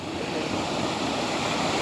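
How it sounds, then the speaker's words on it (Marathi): Sea waves surge and wash onto a shore as a steady, close, broadband rush with no breaks, heard alone without talk. "बापरे बघा लाटा"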